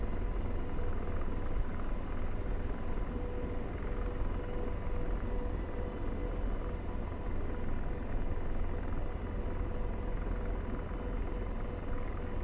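An AH-64D Apache helicopter in the DCS flight simulator gives a steady, close rotor and turbine rumble that runs unbroken and fairly loud, with no talking.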